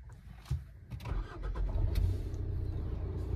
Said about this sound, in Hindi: एक बारी मैं इसका स्टार्टिंग करके कैबिन नॉइज सुनाना चाहूंगा आपको